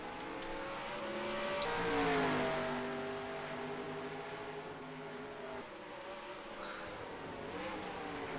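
Race cars in the sim game NASCAR Racing 2003 on a Chicago street circuit, several engines droning and shifting pitch together as the pack passes, moderately loud and continuous.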